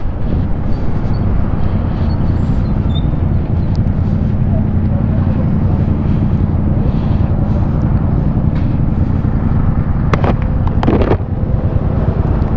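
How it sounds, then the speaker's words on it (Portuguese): A steady, loud drone rumbles throughout from a Voltz EVS 2023 electric motorcycle cruising, with wind buffeting the microphone and a brief rattle near the end. "Fazendo muito barulho sua moto"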